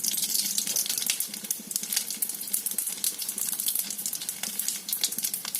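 Mustard seeds sputter in hot ghee and coconut oil, giving a steady, dense crackling sizzle with rapid tiny pops, close and fairly loud, running continuously with no voices.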